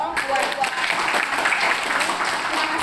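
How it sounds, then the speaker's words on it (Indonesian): An audience at a motivation and leadership training session claps in a dense burst of applause, a steady wash of hands that holds its level throughout. "Sekali lagi tepuk tangan dulu dong buat"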